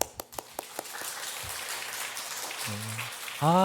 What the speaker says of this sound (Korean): 그러면 박수 쳐주세요